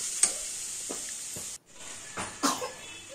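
Quince (chalta) pickle stirred and fried in a pan, a soft close sizzle punctuated by several scraping stirs of a spoon and a brief pause midway.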